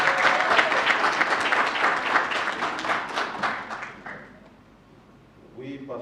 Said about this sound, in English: round of applause to Mama Marie